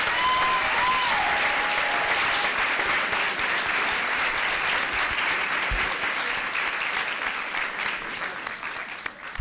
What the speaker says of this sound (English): Let's give Hohokam students a round of applause.